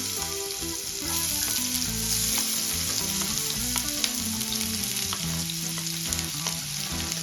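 Onions crackle and sizzle as they fry toward golden in oil left over from frying Bombay duck, a close, busy hiss with intermittent stirring sounds and no speech.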